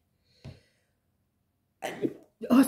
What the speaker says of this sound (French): Attention, je vais éternuer.